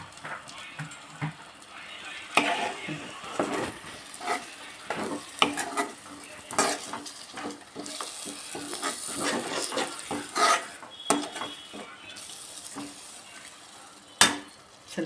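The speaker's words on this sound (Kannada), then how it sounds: "ಆ ಜಾರಲ್ಲಿ ಇದ್ದಿದ್ದು ನೀರನ್ನು ಹಾಕ್ತಾಯಿದ್ದೀನಿ" Ivy gourd gravy with ground tomato cooks in a pan as the leftover water from the mixer jar is tipped in. It sizzles and gets stirred, with soft scraping and utensil clinks throughout, loud close bursts, and a voice now and then.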